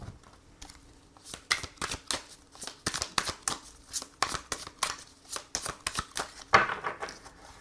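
Tarot cards being shuffled by hand, a rapid run of crisp, close riffling snaps and flutters in uneven bursts, with faint background between strokes and no talking.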